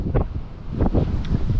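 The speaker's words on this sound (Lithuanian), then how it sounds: "Vėjas kosminis." Strong wind blasts across the slopes of the Calbuco volcano, buffeting the microphone in loud, uneven gusts that swell and drop several times over a constant roaring background.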